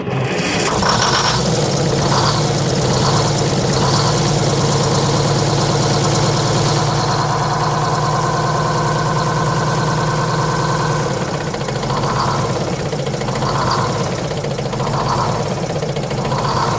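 A Detroit 6-71 diesel engine in a Silversides bus idles loud and close with a steady rumbling drone and a rhythmic mechanical clatter. Valves have just been adjusted and two are disconnected.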